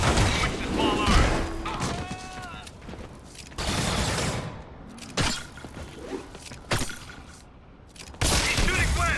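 Gunfire in the video game Marvel's Spider-Man, with bursts of shots, thuds and impacts coming in uneven waves while game characters shout over the action.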